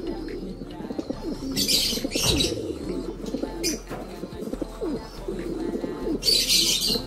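White pigeons cooing nearby, a steady low throaty burble repeating throughout, with occasional brighter chirps and wing rustles over it.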